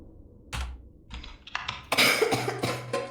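A video game creature in Lethal Company coughs several times in short rough bursts, close and fairly loud, over a quiet background.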